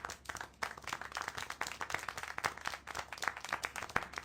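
Scattered hands clap in a brisk, uneven patter in the video game Syberia: The World Before, like a small group applauding, fairly faint and continuing steadily throughout.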